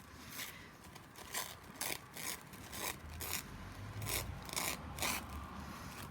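Pattern paper tears in a series of short, rasping rips, several distinct bursts close up with quiet pauses between them and no talking.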